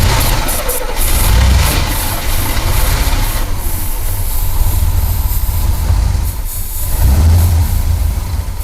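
An abandoned Camaro Z28 engine with a carburetor in need of a rebuild idles with no exhaust fitted, giving a loud, close, rough and continuous rumble with slight surges throughout.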